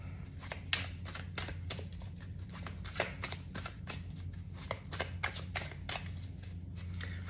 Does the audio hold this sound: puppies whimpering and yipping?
no